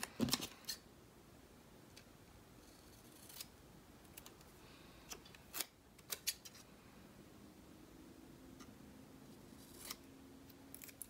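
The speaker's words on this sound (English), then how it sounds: "I am going to just cut another one of these ombre boxes up" Scissors cut up an ombre card box, giving a scattering of sharp snips and light papery rustles against a quiet room. No one speaks.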